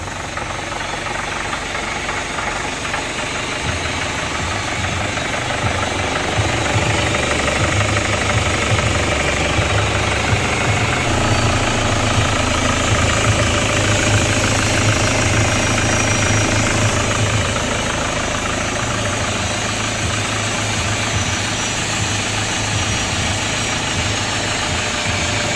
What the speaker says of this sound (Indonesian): Nah, kita biarkan dulu mesinnya nyala 10 sampai 15 menit.